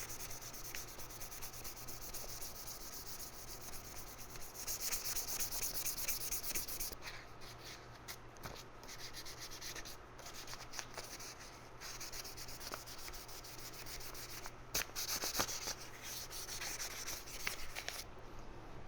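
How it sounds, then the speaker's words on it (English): Car trim being sanded by hand with 600 grit sandpaper, a close, quiet, continuous rasping and rubbing in back-and-forth strokes with brief pauses, no voices. "I've got a 600 grit sandpaper. This will give it a nice, even, smooth finish and rough it up just enough for the paint."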